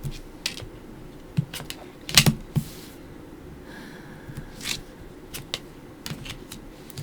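Tarot cards are handled and laid out on a table, giving soft shuffling and sharp scattered flicks and snaps, one louder cluster near the middle, with quiet pauses between.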